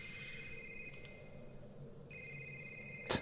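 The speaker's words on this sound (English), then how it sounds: "You're getting a phone call? Now?" A phone rings for an incoming call: a steady electronic tone that breaks briefly and then resumes, fairly faint over a low background, ending with a sharp click.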